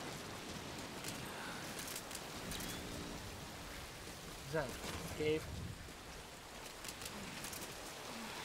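Steady rain falls in a dark outdoor scene in Metal Gear Solid V: Ground Zeroes, a constant hiss of drops beneath a short spoken line and a few small game sounds.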